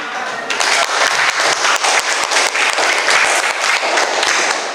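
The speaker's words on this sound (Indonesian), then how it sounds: "Oke, tepuk tangan dulu." A class of students applauds in a classroom, with loud, dense, continuous clapping from the whole group for several seconds.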